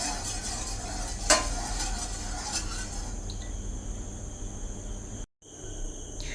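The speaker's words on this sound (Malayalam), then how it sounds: "പാലൊന്ന് ഇളക്കി കൊടുത്തോണ്ടേ ഇരിക്കണം അടിക്ക് പിടിക്കരുത്" Milk boiling in a pot for Kerala-style pineapple payasam as it is stirred: a steady, soft bubbling hiss with a sharp spoon scrape early on and a brief cut near the end.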